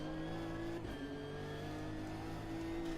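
A race car downshifts in the Automobilista 2 racing game at Bathurst, the engine note holding a sustained tonal whine that dips and shifts as the gears change, faint and continuous, with no talking.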